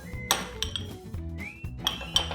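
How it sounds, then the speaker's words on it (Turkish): Sea bass ceviche ingredients being stirred together in a bowl, with a handful of sharp clinks of a utensil against the dish spaced irregularly over a soft wet mixing sound, close and fairly quiet. "Şimdi bunu karıştıralım."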